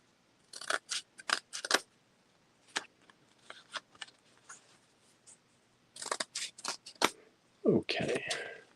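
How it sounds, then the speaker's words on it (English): Scissors cut through paper in bursts of crisp snips, clustered in quick runs with pauses between, close and clear, with some rustling of the sheets near the end. "You would think with as much of this paper as I cut, I would be able to cut it exactly in half."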